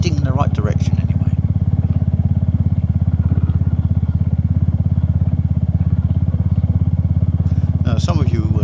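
A Spitfire motorcycle fitted with a single seat is ridden along country lanes, its engine giving a loud, steady, close thumping drone for the whole stretch, with faint clatter near the start and end.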